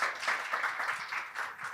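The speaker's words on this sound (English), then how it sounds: "I think a round of applause for Jennifer and for that" An audience claps for a speaker at a museum talk, a short, even patter of applause of moderate loudness.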